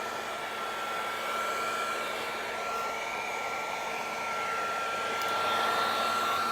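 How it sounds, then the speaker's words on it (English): A Makita heat gun blows steadily while shrinking heat-shrink tubing onto a cable, giving a continuous, fairly loud airy roar with a faint whine that holds level throughout and swells slightly near the end, with no talking. "what I have here is my Makita heat gun"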